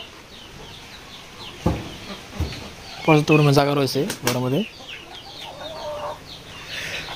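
Chickens in a roomy poultry shed give scattered clucks and a burst of loud, close squawking calls midway, while someone speaks over them.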